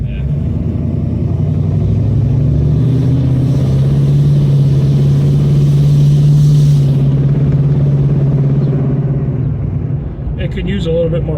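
Engine of a Dodge Challenger with a 518 automatic transmission swap runs near and loud in a steady rumbling drone, holding one pitch for most of the stretch before dropping off near the end.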